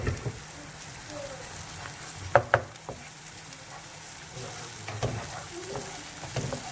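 Garlic hisses and sizzles steadily in a hot frying pan for chicken porridge, a close, continuous crackle with a few sharper clinks of a utensil against the pan.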